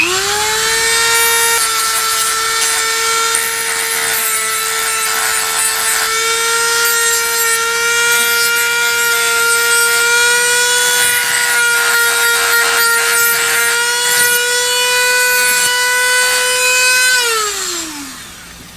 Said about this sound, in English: The sanding drum on the Dremel does a really good job.